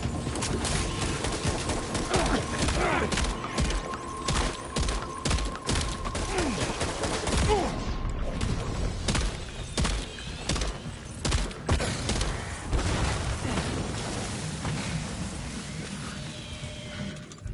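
Shotgun blasts in the video game Death Stranding 2, a rapid series of sharp, loud bangs over a busy backdrop of clatter and ambient game noise, with no talking.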